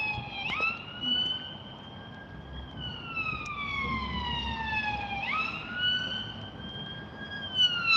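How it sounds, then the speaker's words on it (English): An ambulance siren wails in slow rising and falling sweeps, moderately distant over faint street background, its pitch dipping as it passes. "Oh, it's an ambulance."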